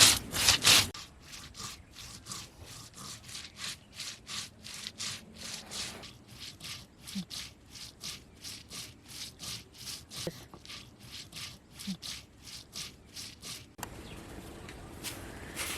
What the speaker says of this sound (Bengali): জিরা আর ধনিয়া একসাথে বেটে নিচ্ছি